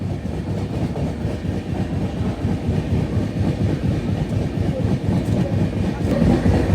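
An East Coast Railways train rolls past in a loud, continuous rumble, with rhythmic clickety-clack of wheels on rail joints throughout.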